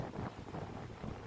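Strong wind blows across an open beach at Poonakari, Sri Lanka, buffeting the microphone with a steady, rumbling roar and no voices heard.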